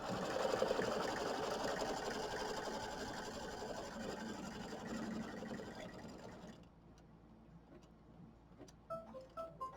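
An embroidery machine stitches a bag placement line and tack marks on a quilt project, a steady rapid mechanical hum that stops after about six seconds, leaving faint clicks and light handling noises.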